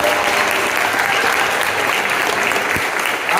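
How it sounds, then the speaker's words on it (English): A crowd at the Heard Museum in Phoenix claps for a costumed Hopi R2-D2 droid, loud sustained applause filling the space, with a few distinct nearby claps. "And a round of applause for Hopi R2."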